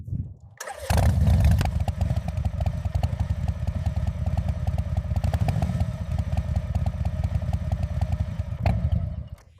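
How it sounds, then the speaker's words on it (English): Harley-Davidson motorcycle engine starts with a quick clatter, then settles into a loud, steady, close-up rumbling idle with an uneven throbbing beat for several seconds, with no talk over it. "Nothing sounds like a Harley."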